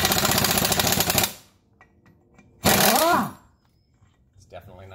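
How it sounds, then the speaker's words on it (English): An air impact gun rattles loudly in two bursts, the first over a second long and the second shorter and winding down, loosening a clutch on an EZGO golf cart, with quiet workshop pauses between. "It's definitely nice to have an air tool for something like this. Highly recommend an impact gun."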